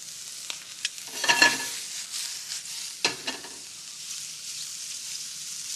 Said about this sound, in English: Nothing really enhances the flavor of mushroom like a really high heat sear.